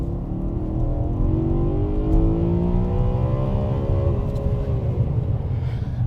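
A BMW E92 M3's engine revs up toward 8,400 rpm, a close, loud, continuous wail whose pitch climbs steadily and then eases back, with no talking over it.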